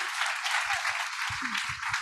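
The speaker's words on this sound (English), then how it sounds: "we're probably sick of clapping, but can we just clap" Audience applause during a keynote on using photography for wildlife conservation, a brief, even patter of many hands clapping at moderate distance, with a few low thumps from the room beneath it.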